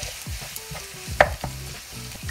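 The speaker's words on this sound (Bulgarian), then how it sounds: "Ето, че нашата каймичка се пържи добре." Minced pork and beef frying in a pan, with a steady sizzle and repeated scraping stir strokes of a utensil at an uneven rhythm, close up, no talking.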